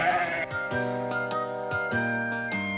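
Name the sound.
goat bleating, Gomer Goat in Hi-Ho! Cherry-O VCR game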